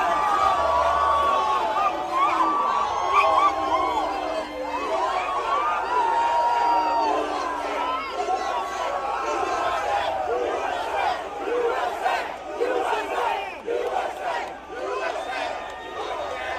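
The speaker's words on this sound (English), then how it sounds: "take a listen to how fans reacted to him just literally walking through the concourse at Jack Trice Stadium in Ames." Stadium crowd in the concourse of Jack Trice Stadium in Ames at an Iowa State football game, a dense roar of cheering, shouting and whooping that stays loud and continuous throughout.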